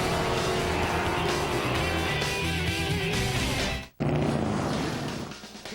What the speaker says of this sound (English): And it continues as former champions are racing all over Mid-Ohio Sports Car Course right now, and Ray Yergler is leading his little group